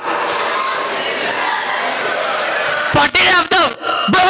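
Amid the steady hubbub of an audience at a school arts fest, a performer imitates a cat, ending with a few sharp, loud, wavering meow-like cries close to the microphone.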